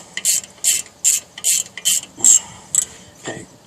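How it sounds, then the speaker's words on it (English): A ratchet tightens brake bolts on a 1998 Jeep Grand Cherokee Laredo 4.0 4x4, giving about eight quick, close, crisp clicking bursts in a steady rhythm, heard alone. "And turn these two bolts in. Get them snug."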